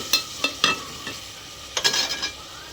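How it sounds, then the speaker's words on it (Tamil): Tomatoes sautéed in a pan for drumstick fenugreek curry, with a spatula scraping and stirring in several short bursts over a light sizzle, near and fairly clear, with no talking. "தக்காளியை கொஞ்சம் நல்லா வதக்கி விட்டுக்குவோம்"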